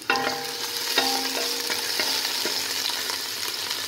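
Garlic frying in a pan for meat kabsa while being stirred, a constant close sizzle broken by several clinks and scrapes of the utensil, with no voices.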